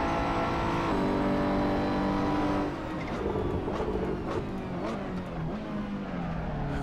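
Race cars in the racing game Assetto Corsa during an online race, a Porsche among them, with an engine droning and revving steadily, then easing off into lower, rougher running and passing tones, without talk.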